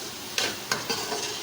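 Crushed dried coriander is stirred into salt, cumin and spices in a pan for chatkhara bhindi, with two or three quick scraping strokes over a soft steady sizzle, close and quiet.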